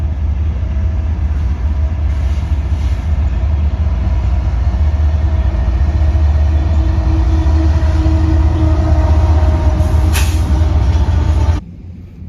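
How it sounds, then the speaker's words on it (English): A train rumbles past with a steady low roar and rattling wheels, loud and continuous until it cuts off near the end. "I'm gonna see if I can get a better shot of the train going by."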